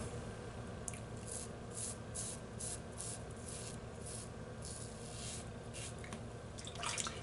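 A shaving brush works water into Purely Skinful Intrigue shaving soap to build lather, giving soft, wet squishing and rubbing strokes close up, repeating steadily and quiet with no voices.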